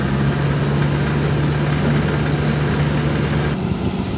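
Engine of a bitumen tanker at a hot mix plant, running loud and close with a steady deep hum. It rises slightly at the end as the throttle opens, with no talk.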